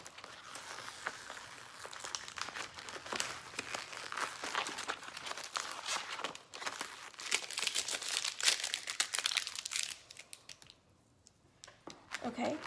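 Cut Oramask 813 stencil vinyl is weeded by hand, giving close crinkling, peeling and crackling noises in steady bursts that ease off near the end, with a voice talking at times.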